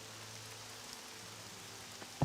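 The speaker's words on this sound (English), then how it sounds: "Man, it's fucking raining today, man." Rain falls in the video game Morrowind Remastered as a soft, constant hiss with no breaks, and a single dull thump lands near the end.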